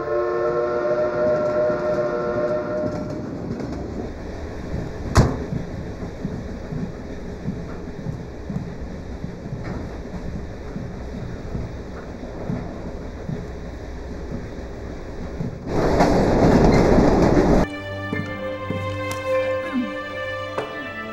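In a film scene, a train rumbles along the rails with a low continuous roar, a sharp clank partway through and a burst of whistle near the end, while music plays at the start and close.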